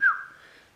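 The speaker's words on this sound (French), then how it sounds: "Oui, j'ai sifflé." A single short whistled note from a person, starting with a bright high pitch that dips slightly and then fades away over under a second, close and alone.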